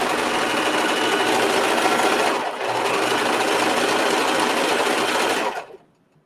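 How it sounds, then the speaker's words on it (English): A serger sewing machine stitches fabric in a fast, steady mechanical whir, close and continuous, with a brief dip midway before it stops abruptly at the end. "I love the serger"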